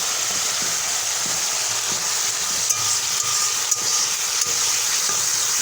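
Chicken sautéing with salt and turmeric in a pan gives a steady, close sizzle and hiss that runs throughout, with a few faint scrapes of stirring and no voices.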